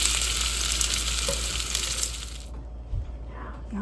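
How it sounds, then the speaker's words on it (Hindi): Lasagna just out of the oven, sizzling and bubbling with a dense crackling hiss that runs steadily close up, then drops away abruptly. "सिजलिंग बबलिंग जस्ट बाहर निकाला है"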